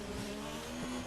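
Formula One race cars in a racing video game driving through a chicane, a steady high engine whine with shifting tones, close and loud, with a brief squeal near the end.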